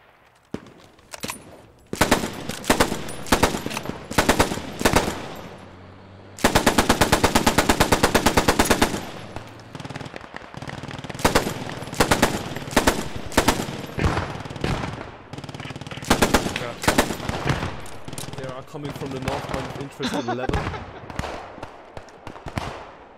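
Machine gun fire in the World War II shooter Post Scriptum: loud, close bursts of rapid automatic shots, one long sustained burst in the middle, with scattered shorter volleys and distant gunfire between, faint voices underneath.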